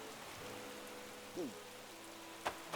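Rain in the video game Animal Crossing: New Horizons falls as a soft, steady patter, with a couple of brief tonal blips from the game over the quiet wash.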